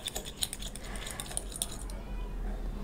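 A spoon stirs beaten curd with sugar in a bowl, giving quick irregular scraping clicks and taps for about two seconds before fading to quiet room noise.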